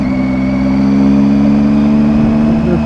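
A Triumph motorcycle engine cruises at 60 with a loud, steady droning hum and whirring, holding an even pitch throughout with constant road noise and no speech.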